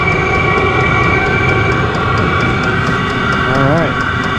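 Off-grid diesel air heater runs without its muffler, giving a loud, close, continuous roaring drone with a rhythmic ticking pulse and a faint rising-and-falling whine near the end.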